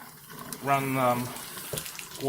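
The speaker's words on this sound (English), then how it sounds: "gently hold it against the tap and run warm" Warm tap water runs through a CPAP hose held lightly against a faucet, giving a close gurgling flow with a resonant, whistling tone that rises and falls.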